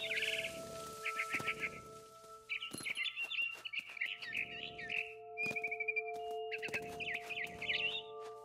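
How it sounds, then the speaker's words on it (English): A barn swallow in the video game What Remains of Edith Finch chirps in quick, repeated bursts of bright twittering, separated by short pauses, over sustained tones of background game music. "Then I heard chirping outside my window. It was a barn swallow going back to her nest."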